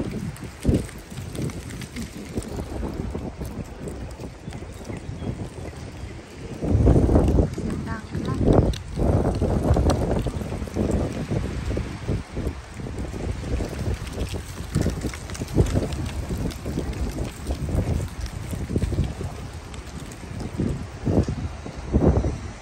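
Strong gusty wind blowing outdoors in Auckland, roaring steadily in heavy low buffeting against the microphone, with louder surges partway through and a voice speaking over it.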